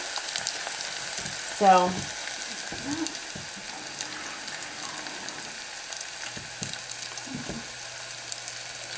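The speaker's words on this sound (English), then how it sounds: "this is sauteing down pretty well" Shiro mixture sizzles as it sautés in a pan, a steady hiss persisting throughout, with a short spoken word early on and a few soft clinks of stirring.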